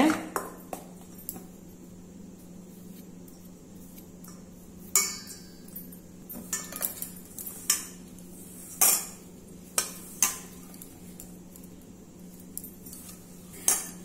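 Wheat flour biscuit dough is mixed with refined oil in a bowl, with a steady scraping undertone and repeated metallic clinks of a spoon against the bowl. A person talks at times.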